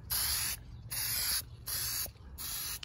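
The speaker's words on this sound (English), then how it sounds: "Just not letting the copper spray sag or drip." An aerosol can of copper spray hisses in four even bursts, each about half a second, while coating a head gasket for a Willys L134 flathead engine. The spraying is close and steady, with brief pauses between passes.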